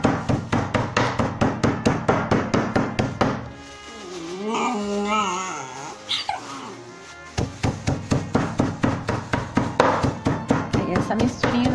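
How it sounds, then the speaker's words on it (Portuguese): A meat mallet tapping on chocolate to crush it, a steady run of rapid, sharp knocks close by. The knocking stops while someone speaks, then the quick rhythmic tapping resumes. "dar uma batidinha com o martelinho de carne, tá? Pra triturar."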